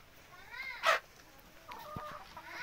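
A Sonali hen that has just laid an egg clucks in a short run of calls close by, followed by a sharp burst of noise and quieter scratchy farmyard sounds.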